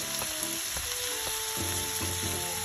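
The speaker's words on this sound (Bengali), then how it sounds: "চিংড়ি মাছটা অ্যাড করে দিই। একটু ফ্রাই করে রেখে দেওয়া হয়েছিল," Pre-fried shrimp are stirred through a hot pan for a quick stir fry, producing a dense, even sizzle up close, punctuated by regular light taps of the spatula roughly every half second.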